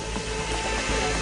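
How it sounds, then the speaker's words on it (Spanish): Ropes and a wooden Roman pulley creak under strain while hoisting a stone block, a short, close, continuous grinding creak with faint ratcheting texture and no voices. "La tensión se oye en las cuerdas y la madera."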